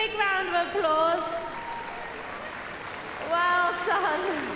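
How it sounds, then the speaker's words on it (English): An audience applauds at the Crufts 2013 rescue dog agility event, a steady patter of clapping between stretches of a presenter talking over a loudspeaker. "Let's give these guys a big round of applause."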